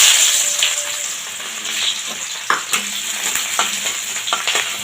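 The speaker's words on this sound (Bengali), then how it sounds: "এই তেলের মধ্যে একটুখানি পেঁয়াজ দিয়ে দেবো।" Onion sizzles loudly in hot oil, a constant bright crackle with scattered stirring scrapes and knocks over it, easing slightly after the start.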